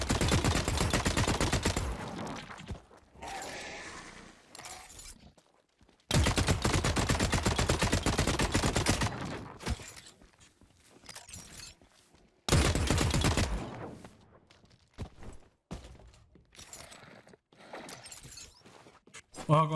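Gunfire in the video game The Cycle Frontier comes in three long, loud bursts of rapid automatic fire separated by quieter gaps. Someone speaks during the gaps.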